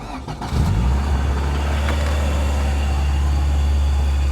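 A Nissan Gloria's engine cranks briefly and catches, then settles into a loud, steady, deep idle rumble close by.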